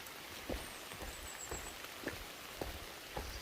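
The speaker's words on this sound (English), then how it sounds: "just a constant, steady rain throughout the day, as you can see here in this video of the forest" Steady rain falls over a fern-covered forest in a constant broadband hiss, with a few soft, heavier drips landing at irregular intervals close by.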